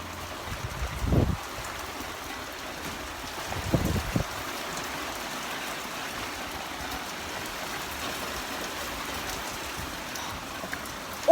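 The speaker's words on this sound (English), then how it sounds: "This is a really bad rain." Heavy rainfall during a thunderstorm, a steady dense hiss of rain pouring continuously, with a couple of brief low thumps early on, close and without speech.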